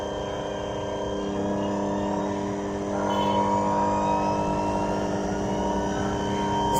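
Electric motor on a homemade generator rig spinning up, a steady droning hum with layered tonal whine that grows slightly louder and higher partway through, close and continuous with no talk.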